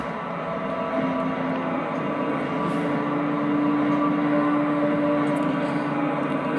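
Propeller plane engine droning loudly and steadily as it takes off in a Minecraft planes mod, a constant hum with a faint rising tone that swells slightly toward the end, with no talking.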